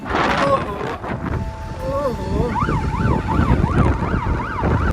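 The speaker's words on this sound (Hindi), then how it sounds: "अभी सायरन वगैरह बजेगा तो बोले पुलिस कहाँ से आ गया" A wailing siren fitted to a motorcycle on a Royal Enfield Bullet ride rises and falls in a steady repeating sweep, loud and close, over continuous engine and wind rumble.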